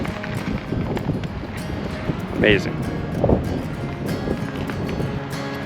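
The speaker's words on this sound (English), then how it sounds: "it's windy enough on top here that I'm holding on to my hat" Strong wind gusts buffet the open summit of Scotts Bluff in a steady blustery roar with microphone rumble, while a person speaks briefly over it.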